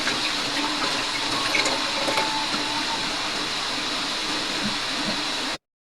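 Running water splashes steadily while elepante herb leaves are rinsed before going into a glass for herbal tea, a continuous close hiss of tap-like flow that cuts off abruptly near the end.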